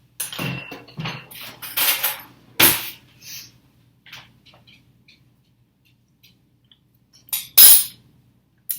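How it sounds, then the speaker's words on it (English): Spoon fetched from a kitchen drawer to taste mashed potatoes, a few scattered metallic clinks and rattles of cutlery, close and brief, separated by quiet gaps, with no talking. "let me get a spoon and taste it just a second"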